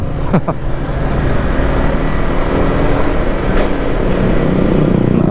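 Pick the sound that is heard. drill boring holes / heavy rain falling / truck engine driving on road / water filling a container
truck engine driving on road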